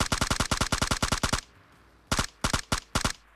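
Automatic rifle fire in the video game PUBG: a loud rapid burst of evenly spaced shots, a short pause, then several shorter bursts.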